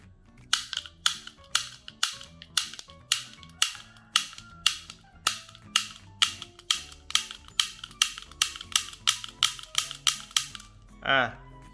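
A toy cap gun, model 008, fired repeatedly right after assembly: about twenty sharp, close snaps in a steady rapid rhythm, with a brief rising whine at the very end.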